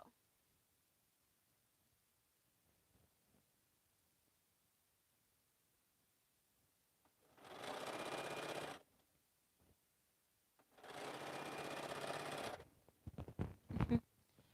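A home sewing machine runs in two steady bursts of a few seconds each, moderately loud, separated by a short quiet pause and followed by a few brief clicks and knocks.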